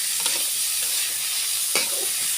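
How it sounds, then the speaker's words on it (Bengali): Chicken filling for potol dolma (stuffed pointed gourd), seasoned with Maggi masala, fries in a pan with a steady close sizzle, broken by a couple of brief scraping stirs. "সুন্দর করে ভাজা ভাজা করে পুরটা ভেজে নেব।"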